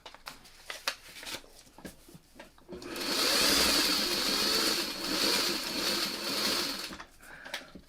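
A sewing machine stitches a first line on quilt pieces for a Cross and Crown mini quilt, first soft handling clicks, then a steady close mechanical whir running about four seconds before stopping.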